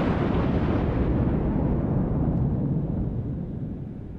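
Tier 9 Iowa battleship big guns in World of Warships fire as one heavy, rumbling boom that fills the whole stretch and slowly decays, loud and alone with no talk.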